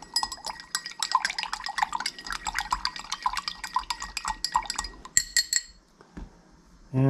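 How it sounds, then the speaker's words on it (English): Cocktail being dry stirred in a mixing glass without ice: a fast, continuous run of bright clinks and taps from the spoon against the glass, close and clear, ending in a few louder knocks and then quiet. "we're just going to dry stir that."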